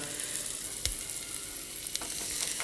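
Mustard seeds frying in hot oil make a steady, close sizzle with a few sharp pops and crackles breaking through.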